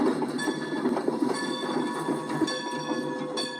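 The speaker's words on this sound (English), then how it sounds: "I hear that train a-coming" A train rolls steadily along the tracks nearby, a continuous loud rumble with rail clatter and faint metallic squeal, no talking.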